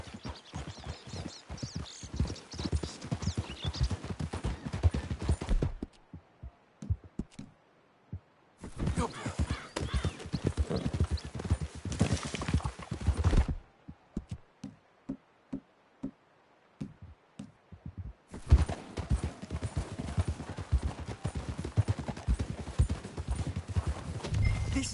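Horses in the video game Red Dead Redemption 2 trot with a rhythmic clip-clop of hooves in several stretches, broken by quieter gaps with scattered soft thuds, close and fairly loud.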